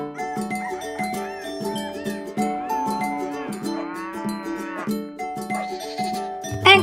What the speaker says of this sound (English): The merino ewe.